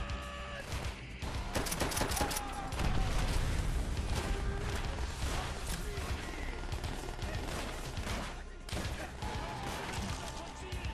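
Machine gun fire from an MG in Call of Duty: World at War, dense rattling bursts and crashes running continuously with a brief lull near the end, close and loud.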